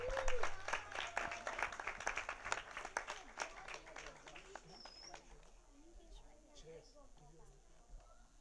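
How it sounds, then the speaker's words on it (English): An audience claps for a speaker at a Sai Baba birthday celebration in Jersey City, starting fairly full and then thinning and fading away to scattered claps and quiet room sound. "Please give him a round of applause."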